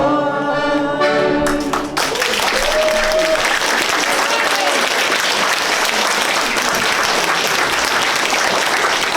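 A concert audience claps loudly and continuously for a folk ensemble right after the final sung note fades, the dense applause filling the hall without a break.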